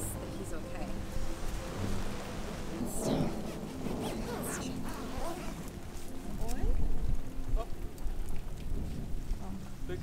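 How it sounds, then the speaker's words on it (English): Rain falls steadily outdoors in a backyard, a dense broadband patter with scattered drops and low rumbles of thunder swelling midway, heard throughout at moderate loudness. "Actually, it must be raining again."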